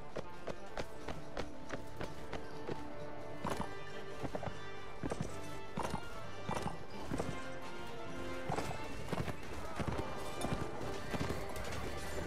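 Horses gallop in Mount & Blade: Warband, with rapid, overlapping hoofbeats drumming steadily throughout as a mounted group charges in close, and faint whinnies mixed into the clatter.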